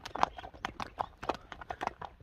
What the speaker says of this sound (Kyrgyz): Күрөң ат. Мына көрүп турасыздар,